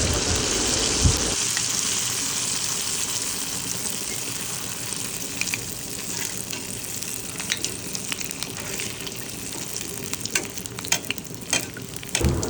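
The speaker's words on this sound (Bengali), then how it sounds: "আমি আরেকটা আপনাদেরকে ভেজে দেখাবো তো এই আর একটা আপনাদের ভেজে দেখাচ্ছি" Palm fruit pitha deep-fries in oil, a continuous bubbling sizzle with scattered sharp crackles and pops that grow busier toward the end, steady and close with no talking.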